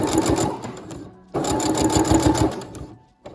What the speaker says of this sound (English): sew 1/4 of an inch up just past the pin that I have, just to ensure that the elastic is properly secured